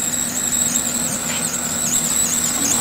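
A 2012 Chevrolet Silverado pickup engine runs steadily at idle, a low constant hum under a persistent high-pitched squeal that wavers slightly, with no one talking.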